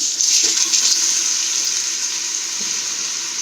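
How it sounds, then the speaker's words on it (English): Sliced onions hit hot cooking oil in a pan for a spinach and chicken curry, giving a loud, steady hissing sizzle that starts at once and settles into a constant fry. "half cup of cooking oil in there. And to it, I will add the sliced onions"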